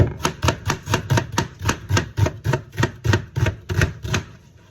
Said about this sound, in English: So if you take that onion and instead chop it this way